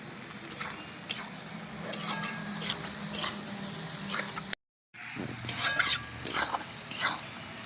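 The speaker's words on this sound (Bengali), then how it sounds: "লবণ আর হলুদ ভালো করে মিশিয়ে বেশ কিছু সময় কষিয়ে নেব" Spices with salt and turmeric stir-fried in a pan for a cabbage and fish-head curry, scraping strokes of a spatula over a gentle sizzle, with one brief dropout midway.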